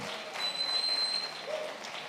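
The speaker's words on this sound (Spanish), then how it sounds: "Si va a aplaudir, aplauda de verdad" Church congregation applauding, a soft, dense patter of many hands clapping at a distance, fairly faint and steady for a couple of seconds with a brief whistle-like tone above it.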